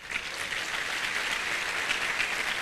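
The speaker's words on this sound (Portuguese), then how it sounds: "levante por favor, os aplaudam." Audience applause for Federal Police students at a congress lecture, steady and even clapping from a crowd throughout, fairly distant with no voices over it.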